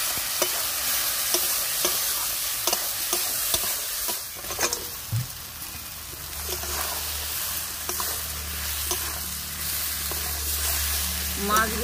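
Pieces of katla fish stirred into sizzling spice masala in a pan: a spatula scrapes in repeated sharp strokes over steady frying hiss, with the sizzle growing fuller in the second half.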